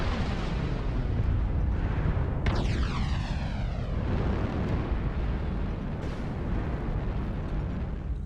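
Missile explosions and jet roar in a combat video game: a continuous heavy rumble with a whooshing, pitch-sweeping blast in the middle and another burst later, loud and close throughout.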